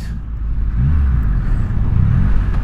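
A large-displacement motorcycle engine rumbles up close, loud and deep, with revs rising and holding under a rough, throbbing drone while riding.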